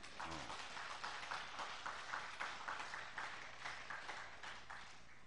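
Faint, rhythmic applause from an audience at a Buddhist Lotus Sutra prayer gathering, a steady pattern of distant, evenly spaced claps with a brief voice at the start.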